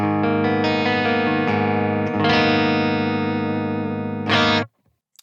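Electric guitar played through a Vola Keene Machine tremolo pedal set to position 5, with distorted chords pulsing in a steady tremolo, a brief restrike near the end, then an abrupt stop into silence.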